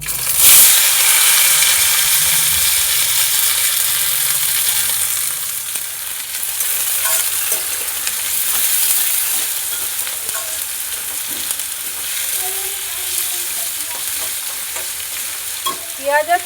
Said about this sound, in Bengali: পেঁয়াজ আর টমেটো হালকা করে ভেজে নেব